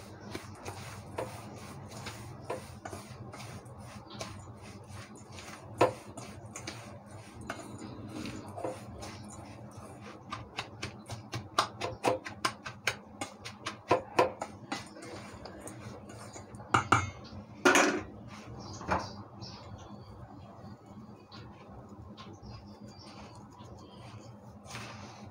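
Spoon scraping and clinking in a bowl while cardamom powder is stirred into a karanji filling, soft, irregular taps and scrapes that grow busier toward the middle, with no talk.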